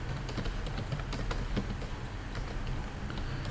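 Rapid, steady keystrokes on a computer keyboard as RPG program code is entered on an IBM i system, close and continuous over a constant background hiss, with no voices.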